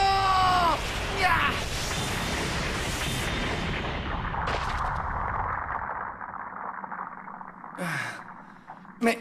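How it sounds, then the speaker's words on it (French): A cartoon explosion in an animated action series erupts with a loud, sharp blast and voices crying out, then trails off into a long rumbling, crackling aftermath that slowly fades, with a final small burst near the end. "Explosion!"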